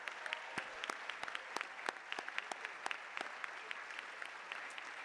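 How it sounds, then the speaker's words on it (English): School prize day audience claps steadily, a crisp patter of many hands with sharper individual claps standing out, heard from within the hall and fairly quiet, with no talking over it. "Please give her a round of applause"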